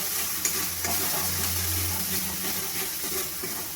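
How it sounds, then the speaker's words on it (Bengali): Garam masala powder being stirred into paneer curry masala frying in a pan, a steady close sizzle with scraping stir strokes throughout, no voices. "এবার আমি গরম মশলা গুঁড়োটা দিয়ে ভালো করে নাড়িয়ে নেব।"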